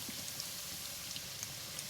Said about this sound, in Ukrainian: цибуля нам смажиться